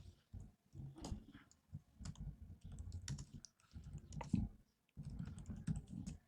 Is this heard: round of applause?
no